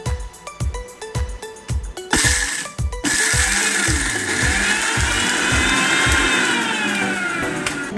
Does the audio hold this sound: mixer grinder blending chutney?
yes